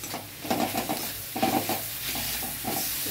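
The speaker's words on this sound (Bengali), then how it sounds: "এবার টমেটো কুচিটা দিয়ে দিচ্ছি" Chopped tomato drops into a spice paste frying in a pan, with a steady sizzle and bursts of stirring scrapes at a moderate, close distance.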